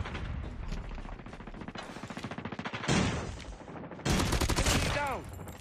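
Rapid suppressed automatic gunfire in Call of Duty, from an FR 5.56 rifle fitted with a suppressor, sounds in quick rhythmic bursts, loud and close, with other game effects layered in.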